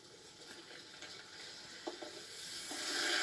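A splash of balsamic vinegar hits a hot pan of onions, giving a steady hiss that swells louder toward the end, with a few faint stirring scrapes and no voices.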